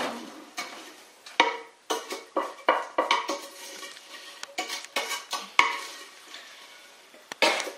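Rice Krispies cereal stirred in a warm pan with the heat off, heard as repeated rhythmic scraping and clinking of a utensil against the pan, close and crisp with no talking.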